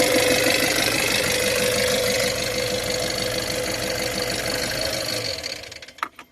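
A 2006 Nissan Urvan E25 van engine idles steadily with a dense mechanical clatter and rhythmic knock, loud and close, before it cuts off near the end and a few brief clicks follow.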